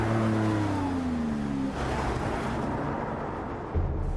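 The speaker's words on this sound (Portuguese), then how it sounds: "o carro que lidera essa iniciativa é o" A Lamborghini Aventador engine revs close and loud, its pitch sliding down over the first couple of seconds before settling into a rough rumble, with a short throttle blip near the end.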